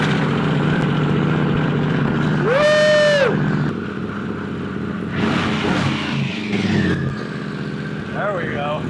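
A Pan America motorcycle with an aftermarket exhaust revs several times, its engine pitch sweeping up and holding before dropping back to a rumbling idle, loud and close, with people talking between the revs.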